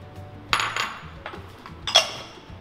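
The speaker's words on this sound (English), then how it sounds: "Let's break the yolks." Egg yolks being broken and whisked in a bowl, a few sharp clinks of utensil on bowl with soft scraping between, close and quiet with no talk.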